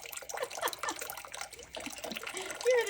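Running water spraying over a parrot during a shower, a soft steady trickle and splash heard close, with a voice talking over it.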